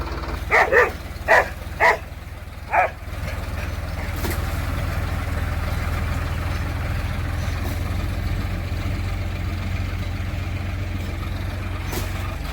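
A dog barks five times in a quick series, fairly close, then falls silent while a low engine hum continues steadily underneath.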